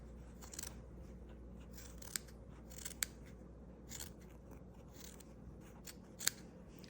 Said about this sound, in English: and then I'm going to cut it out